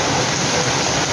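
Heavy stormy downpour at night in Belgharia, a dense, steady roar of rain hammering close by without a break for the whole short stretch.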